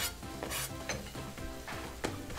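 Ham, onion and pepper being stir-fried in a frying pan for a ham omelette, with a steady close sizzle broken by repeated scraping and stirring strokes, no talking.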